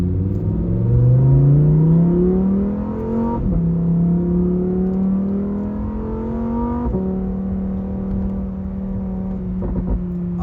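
A 2020 Italian sports car engine pulls hard through several gears, pitch rising then dropping at each shift, loud and close, a deep throaty drone throughout.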